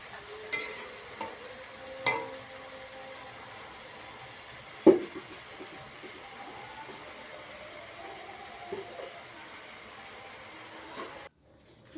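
Rice and lentils being lightly fried and stirred in a pot for khichuri give a faint, low hiss with a few soft clatters of stirring, quiet and without speech.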